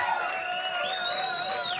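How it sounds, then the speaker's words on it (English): At a variety show, a crowd cheers and whoops with sustained shouted voices rising in pitch, loud and continuous over the whole moment. "please give them a round of applause"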